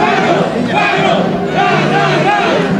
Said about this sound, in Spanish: Con las porras de los jóvenes hacia la alma mater